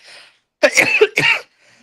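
A sudden, explosive burst close by, two sharp noisy bursts in quick succession like a sneeze, with faint breathy sounds before and after.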